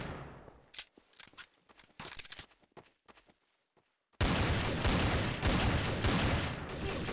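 Gunfire in Garry's Mod Trouble in Terrorist Town: scattered sharp shots crack in uneven bursts, a short gap of near silence follows, then a dense, loud run of rapid fire keeps going to the end.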